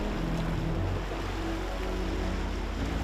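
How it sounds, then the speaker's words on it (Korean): Strong wind buffets the microphone at sea on a fishing trip, a constant loud roar mixed with waves and a low boat engine drone, steady throughout with no voices. "야 바람 많이 분다"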